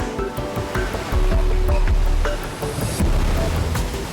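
Atlantic Ocean waves crash against rocks up close, with repeated rushing surges of broad surf noise that swell loudly, ease back, then build again, and no voices.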